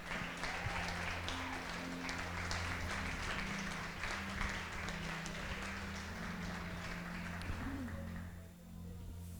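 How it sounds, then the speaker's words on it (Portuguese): A church congregation applauds during a service with sustained, fairly quiet clapping over soft held musical tones, the clapping thinning out near the end. "Você pode aplaudir o Senhor Deus no seu lugar?"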